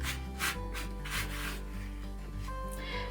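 A rotary cutter slices fabric half square triangles along a quilting ruler, trimming them to 3.5 inches, giving soft, close rubbing and scraping strokes at a low level with no talk.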